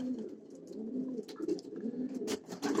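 Pigeons in a loft cooing steadily at close range, low murmuring calls overlapping one another with a few sharper flutters or clicks.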